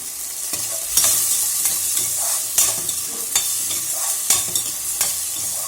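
Tomatoes tipped into softened onions in a pan for a tomato and coconut chutney, stirred with a spoon: steady close frying sizzle with repeated scraping stirs every second or so, no voices.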